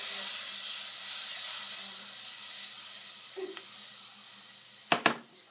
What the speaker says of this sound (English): So let all the butter melt.